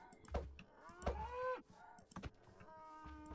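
Cows in the video game Minecraft Dungeons give several low, drawn-out moos, close and fairly clear, with a few thumps and clicks between them.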